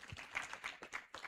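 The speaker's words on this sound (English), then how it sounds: "An applaud for UFAS" Audience applause at an agricultural extension week event in Uganda: a short, fairly faint patter of claps coming in irregular bursts, with no speech.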